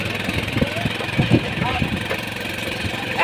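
A motorcycle engine idles at a morning race competition, a steady mid-pitched rumble with slight vibration, under loud nearby voices of people talking over it.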